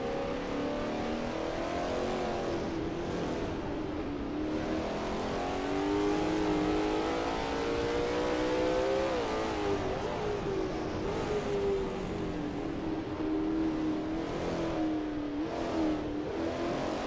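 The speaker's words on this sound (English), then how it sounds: "Adam is expertly commanding that car through Eau Rouge" The engine of a Lola T70 MkII Spyder race car at Spa in a racing game drones loud and constant, its pitch rising and falling through gear changes and throttle, with no speech.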